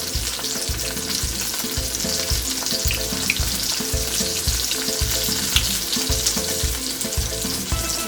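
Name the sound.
salmon and vegetables frying in a pot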